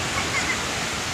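Sea water washes steadily onto the shore at Barcelona, Lingig, Surigao del Sur, a broad continuous hiss with no distinct wave breaks, close and fairly loud throughout.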